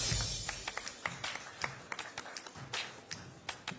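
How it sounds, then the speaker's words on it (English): Scattered applause from a small audience at a live appliance awards event, a few uneven claps over roughly four seconds, fairly faint and distant with no talk. "A huge round of applause, everyone."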